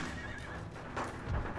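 A horse neighs loudly amid battle noise in Napoleon: Total War, set in a Great War mod, a single strained whinny rising over steady gunfire crossfire with no talking.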